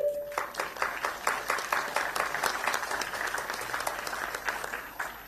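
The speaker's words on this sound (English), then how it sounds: "can we start by giving ourselves a thunderous round of applause, everybody?" An audience at a medical-school orientation program in Chennai breaks into sustained applause, many hands clapping in a dense, even wash that swells slightly and carries on without speech.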